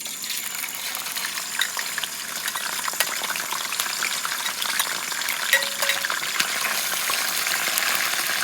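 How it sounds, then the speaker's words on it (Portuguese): Meat frying in a pan at a rough cabin in the forest, a steady close sizzle and crackle with scattered pops throughout, no talking. "Enquanto isso nós vamos fritando nossa carne aqui."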